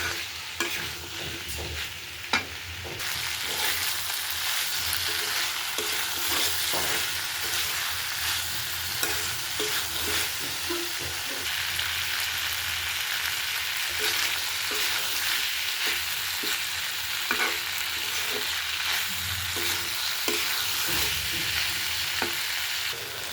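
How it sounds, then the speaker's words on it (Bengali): Seeds and tomatoes are stir-fried in a pan, with a steady loud sizzle overlaid by repeated scraping and tapping of the stirring spoon throughout. "এখন দিয়ে দিচ্ছি বিচিগুলো বিচিগুলো সহ একটু কষিয়ে নিব, নেড়ে চেড়ে কষিয়ে নিব।"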